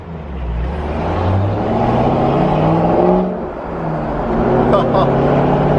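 An exotic sports car engine at a night dealership show idles with a low, steady rumble that rises into revs, loud and close, while people talk over it.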